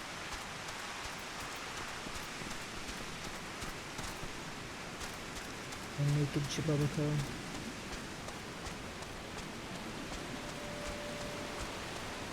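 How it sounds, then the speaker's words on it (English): Steady rain falls in the video game Final Fantasy XIV, a soft constant patter and hiss throughout, with a brief louder game chime partway through and a voice talking over it at times. "It wasn't raining when I got here"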